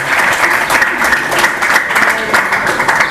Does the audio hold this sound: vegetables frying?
no